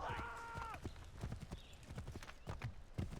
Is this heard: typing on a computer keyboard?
no